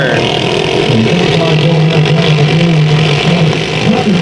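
Race cars start a heat race at Bakersfield Speedway, a loud, close engine roar with a rising and falling revving tone as the field accelerates, the engines blending into one dense, continuous din.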